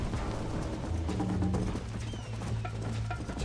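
Horse hooves galloping in Red Dead Redemption, a steady clip-clop rhythm close by over low rumbling, with no voices.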